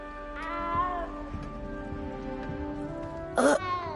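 A small cat in the castle of the video game Hogwarts Legacy gives a few short meows, one near the start and a louder, sharper one toward the end, over a quiet game-music bed with faint ambient background.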